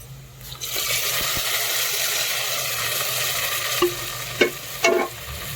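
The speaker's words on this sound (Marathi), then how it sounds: "दोन टोमॅटो घेतलेले आहेत गावरं तर हे पण छान आपल्याला तेलावर फरकून घ्यायचे" Tomatoes sizzle and fry steadily in hot oil for mutton biryani cooked over a wood-fired stove, with a constant hiss and a few clinks of a stirring spoon near the end.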